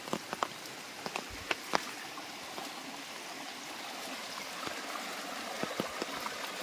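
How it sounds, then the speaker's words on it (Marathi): Heavy monsoon rain falls outdoors during crab catching in first-season rain, a soft steady patter and trickle with scattered sharper drops, fairly faint and without talk. "पाऊस पण जोराचा येऊ लागला।"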